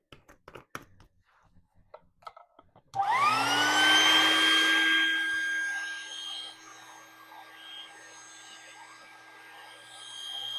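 Top ring of a three-chamber birth pool being filled with air, heard as a sudden loud whirring pump whose pitch rises as it spins up, then runs steadily after some earlier clicks and handling noises.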